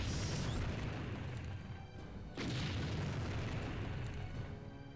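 A heavy mortar shell bursts in the strategy game Empire Earth, a deep rumbling boom that fills the clip, dips briefly, then surges again with a second blast and long low roar.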